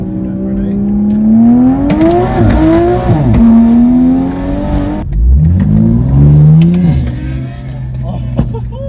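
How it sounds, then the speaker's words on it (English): Big-turbo Toyota A90 Supra accelerating hard from inside the cabin, loud engine note climbing through two gears with a brief dip at the shift, ending in a quieter cruise. "The sound of the Supra is insane."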